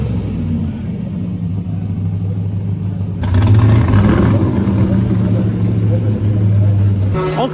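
A Saleen S7 race car with the competition package and a big rear-mounted V8 rumbles nearby at a historic racing reunion, then swells into a louder, rougher rev partway through before dropping back.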